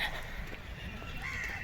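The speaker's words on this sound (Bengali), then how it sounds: "শুনতে পাচ্ছ পাখিদের ডাক" Birds call in the early morning, with crow caws standing out at moderate distance over a quiet outdoor hush.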